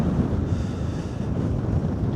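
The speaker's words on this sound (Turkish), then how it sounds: "Abi çok rüzgar var ya." Strong, steady wind roaring and buffeting the microphone on a small boat at sea, with a low rushing rumble throughout and faint water sounds beneath.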